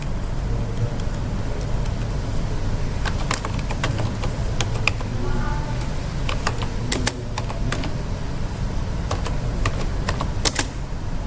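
Rapid clicking keystrokes on a computer keyboard while entering a Cisco router command, in irregular bursts with pauses, close and clear over a steady low background hum.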